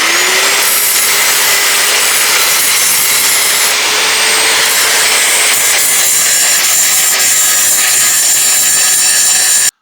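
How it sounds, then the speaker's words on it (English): A large angle grinder grinds a metal distributor part for a front-mount HEI setup on an LS 5.3, a loud, continuous high-pitched shriek with steady motor whine that cuts off abruptly at the end. "This calls for the big boy grinder."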